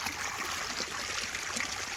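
Irrigation water running through a channel in a village crop field, a steady broadband rushing and trickling flow heard close up and continuous, with no voices.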